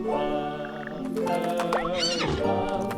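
A horse in the video game What the Golf? lets out a short wavering neigh midway through, following a sustained tonal game sound, with no talk.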